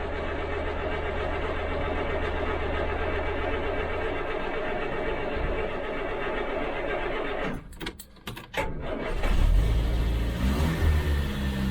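A Land Rover Series III 109 van's engine runs at a steady idle, stutters briefly, then catches and revs up louder, close by and with no talking.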